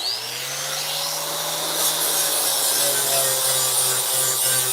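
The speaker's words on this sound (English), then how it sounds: "let me see what happens if I grind it" An angle grinder works a patch of filler on a boat hull, giving a steady, continuous close-up whine and rasp that stays loud throughout, with a low droning hum beneath it.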